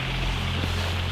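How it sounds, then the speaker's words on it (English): A propeller airplane drones steadily overhead, a low, continuous engine hum heard outdoors at dusk, moderately loud and unbroken, with no one talking. "There's a plane. Can't see it."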